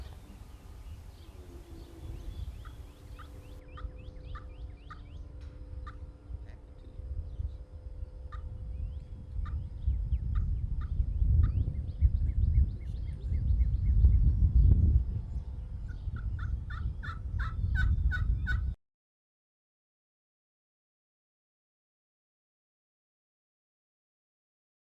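Wild turkey gobblers gobbling repeatedly, several rattling calls from more than one bird, some distant and some nearer, growing louder toward the end over a rumbling outdoor background.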